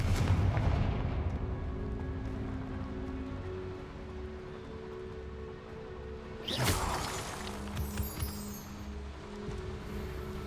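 Confringo fire spell blast in Hogwarts Legacy: a sudden loud explosive burst midway through, rising out of a low rumbling game ambience and trailing off in crackling debris.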